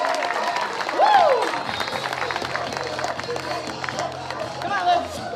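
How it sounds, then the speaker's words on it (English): Crowd applause and cheering at a river regatta on a riverbank, steady clapping with whoops over a loud outdoor crowd, voices mixed in throughout. "Let's give a big round of applause for Legend."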